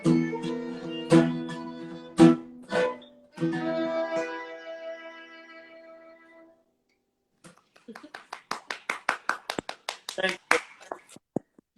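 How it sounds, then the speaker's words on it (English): A small crowd claps after a live acoustic song at a Lansing, Michigan lunch session: sung, strummed notes ring and fade, a short silence follows, then scattered, moderately loud handclaps rise in a brief burst. "That only deserves half of the applause that you get"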